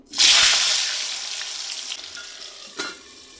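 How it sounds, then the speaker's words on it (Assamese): Long strips of potato drop into hot oil in a kadai with a loud burst of sizzling, then settle into a steady close frying hiss. A brief clatter comes near the end. No one speaks. "আৰু এফালে তেল গৰম হৈ গ'ল আৰু এতিয়া মই দি দিম ইয়াত আলু।"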